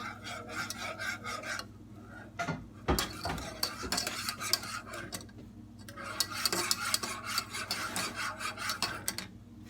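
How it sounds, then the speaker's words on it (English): A whisk scrapes and rasps rhythmically against a pan while stirring a cheese white sauce kept on low heat, the brisk strokes coming in bursts with short pauses between them. "we're going to keep whisking until it thickens up all the way."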